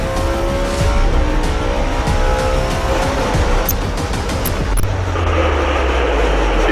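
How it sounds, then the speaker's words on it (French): NASCAR race car at full throttle on the final turn, riding along the wall: a loud, sustained engine roar with tire squeal and scraping noise, ending in a lower rumble. "Chastain a enfoncé son pied dans l'accélérateur et va tenter la technique la plus dangereuse de sa vie sur le dernier virage de sa course."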